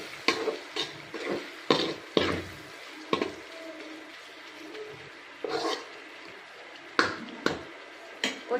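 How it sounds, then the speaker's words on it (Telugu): Chopped tomatoes softening in hot oil in a pan for village-style paneer curry, with intermittent bursts of a spoon stirring and scraping over a faint, low sizzle; no voices. "ఈ టమాటా కూడా ఈ ఆయిల్లో బాగా మగ్గాలి."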